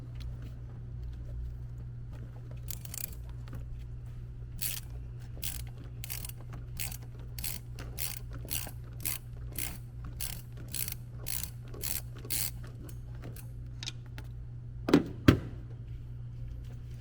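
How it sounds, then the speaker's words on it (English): A ratchet wrench clicks in quick, evenly spaced bursts while loosening the drain nut on the diesel fuel filter of a second-generation Dodge Cummins truck, close and fairly quiet over a low hum, with a couple of sharper knocks at the end. "you take this nut off right here and it drops out the bottom"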